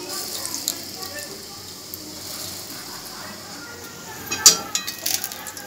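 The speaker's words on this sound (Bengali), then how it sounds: "এরপর বড়াগুলো আমি ভেজে নিচ্ছি" Chana dal fritters fry in hot oil with a faint, steady sizzle. A sharp metal clink and a brief louder bubbling burst come near the end.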